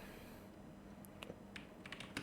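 Light key taps on a computer keyboard come as a few quiet, irregular clicks over a soft background hiss, faint and close.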